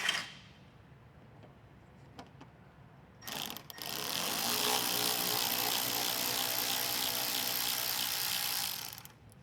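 A power ratchet spins out 7mm bolts from the rear bumper of a 2017 Cadillac Escalade: a faint click, then a loud, steady mechanical whir lasting about six seconds before cutting off.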